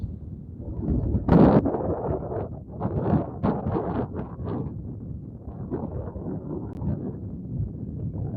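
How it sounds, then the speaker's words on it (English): Wind gusting outdoors, buffeting the microphone with a steady low rumble and a few stronger bursts, no voices. "It's kind of windy out here today"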